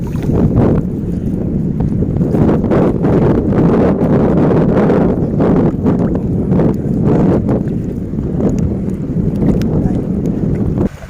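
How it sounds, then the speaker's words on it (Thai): Strong wind and rain sweep across the water at night during low-tide shrimp netting, a loud, unbroken roar and buffeting against the microphone that lasts throughout. "ฝนตกลมแรง"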